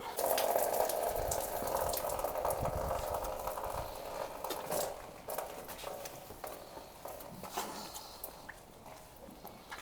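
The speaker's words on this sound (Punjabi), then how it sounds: "ਦੋ ਦੋ ਚਾਰ ਚਾਰ ਆਪਾਂ ਤੁਹਾਨੂੰ ਧਾਰਾਂ ਵੀ ਜਿਹੜੀਆਂ ਮਾਰ ਕੇ ਜ਼ਰੂਰ ਦਿਖਾ ਦਿੰਨੇ ਆ" Buffalo milked by hand, with milk streams hitting a container in a rapid, steady hiss that runs through the whole passage, close and fairly loud over scattered knocks and shuffling.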